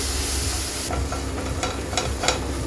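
A spoon stirs a mace (jathipathri) pickle mixture after a spoonful of vinegar is added, giving soft scraping strokes and a few wet clicks over a steady low hiss.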